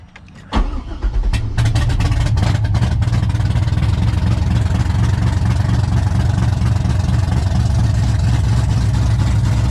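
A Corvette engine cranks and catches on a very cold start, then settles into a loud, steady rumbling idle close by, running continuously with no talk over it.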